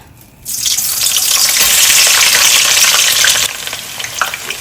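Malabar spinach and hilsa fish bones hit hot oil and fry with a loud, close, steady sizzle that bursts in suddenly, holds for about three seconds, then settles to a quieter crackle.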